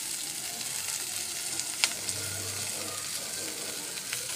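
Finely chopped onions sizzle and fry in a pan for a vegetarian curry at a catering kitchen, a steady hiss with a few sharp clinks of a utensil stirring, close and continuous.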